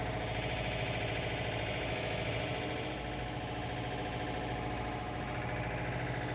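A John Deere 4066R compact tractor engine runs steadily close by, a constant dense mechanical drone with low rumble, holding even throughout with no talk.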